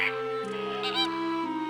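Cartoon flamingos give short honking, goose-like calls over a steady musical backing, a few brief cries bunched together near the middle.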